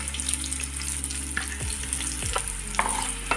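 Potatoes and spinach frying in a pan while being stirred, with steady close sizzling and several distinct scraping strokes of the spoon against the pan, no voices.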